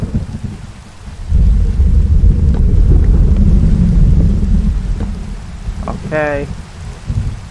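Minecraft thunderstorm with steady rain and rolling thunder, a loud continuous wash that swells after the first second and holds, with a sharper crack near the end; a voice speaks briefly.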